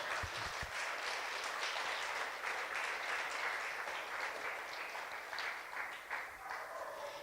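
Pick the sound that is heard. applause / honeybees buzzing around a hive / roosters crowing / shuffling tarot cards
applause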